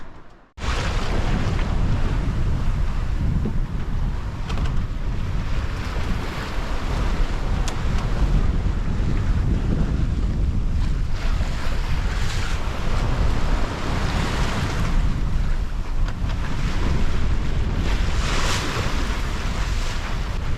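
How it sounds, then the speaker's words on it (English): Strong wind roars across the microphone on a sailboat at sea during a blustery night crossing of the Pacific, with ocean waves and water rushing against the hull, loud and continuous throughout. "Windy out there."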